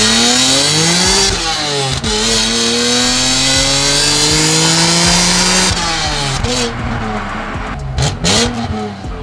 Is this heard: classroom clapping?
no